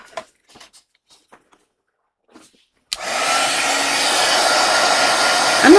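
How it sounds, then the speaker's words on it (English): A heat embossing tool switches on at high setting after a few soft handling clicks, then blows with a steady loud whooshing roar that holds to the end. "I'm going to put it on high here at first, and then I'm going to lower it to the lower setting to actually do the heat embossing"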